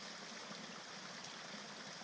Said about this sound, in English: So on the other side of the stream.